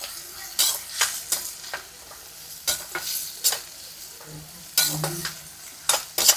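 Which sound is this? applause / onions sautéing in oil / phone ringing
onions sautéing in oil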